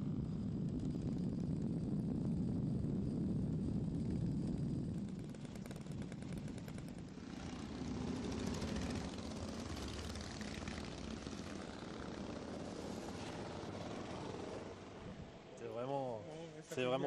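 A Terrot motorcycle engine idles and runs steadily nearby, a rough continuous rumble that shifts slightly in pitch, its fuel mixture slightly too rich, with a voice speaking briefly near the end.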